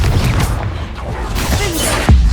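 A Confringo fire spell bursts in Hogwarts Legacy, giving a loud, dense, rumbling explosion that fills the clip, with a sharper low thump near the end.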